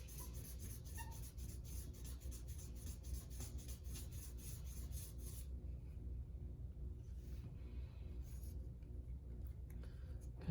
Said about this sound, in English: we're going to go ahead and work it with this rougher sandpaper